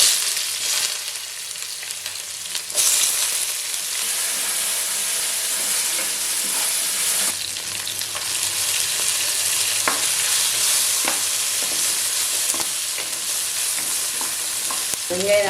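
Onions sautéing in a hot pan with mustard seeds and dried red chillies make a loud, steady hiss and sizzle. A few stirring clinks and scrapes sound close by, with no talking.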